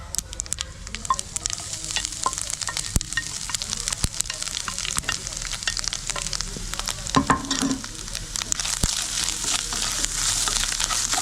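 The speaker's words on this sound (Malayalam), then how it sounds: "തേങ്ങ ഒരു ഗോൾഡൻ കളറാവുന്നത് വരെ ഒന്ന് വറുത്തെടുക്കാം" Dry, continuous sizzling and scraping as grated coconut roasts in a pan toward golden, with occasional sharp clicks of a spoon stirring, close and steady.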